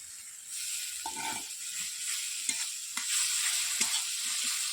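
Ground cumin paste fries in oil over softened onions for a papaya and prawn curry, giving a steady close sizzle with soft scraping stirs throughout, slightly louder near the end.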